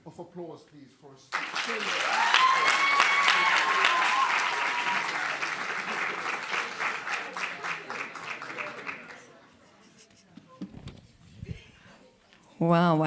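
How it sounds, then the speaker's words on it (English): Sustained audience applause at a university lecture event, beginning after a short voice and swelling into steady clapping, then thinning out before a voice resumes at the end. "Another final round of applause,"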